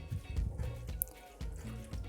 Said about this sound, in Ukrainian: Беру в ту миску, що в мене залишився маринад, влила кружку води. І просто виливаю в дечку.